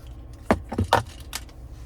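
Keys on a 2023 Chevrolet Silverado 1500 ZR2 key fob with remote start jangle in a few short, close metallic bursts, with nobody talking.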